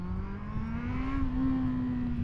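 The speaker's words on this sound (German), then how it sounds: "Du merkst bei dem Motorrad, finde ich, dass du eigentlich noch mehr Gas geben willst." A motorcycle engine, ridden out on a CR model, drones loudly at a high steady pitch that climbs slightly, a sustained revving tone close to the listener with no talk over it.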